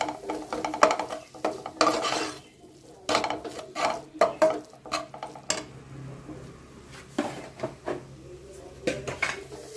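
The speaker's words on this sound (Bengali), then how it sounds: "সব মশলাগুলো খুব ভালোভাবে কষিয়ে নিচ্ছি।" Repeated clinks and scrapes of a spoon stirring ground red chilli, turmeric, coriander and cumin powders in a pan over heat, irregular bursts of clattering with quiet gaps, close and moderately loud.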